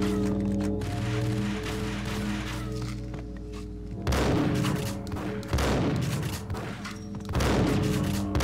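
Gunfire in the video game Max Payne, a series of loud booming shots in bursts with thuds between, set over a steady low game hum, heard up close with no talk.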